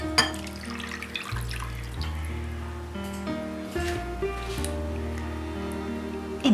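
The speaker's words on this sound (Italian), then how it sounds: "E aggiungo poi il caffè al mascarpone." Liquid coffee is poured into mascarpone in a bowl, a continuous close trickle with a shifting pitch as it fills, without talk.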